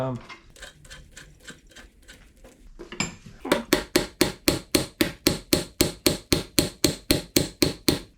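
Sharp metallic hammer blows on a Volkswagen Super Beetle idler arm, first lighter scattered taps, then a steady run of loud, evenly spaced strikes, with a voice faintly underneath.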